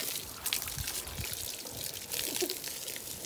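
Water poured over a pig in a farm pen, a soft splashing trickle that runs steadily and fairly close, without talk.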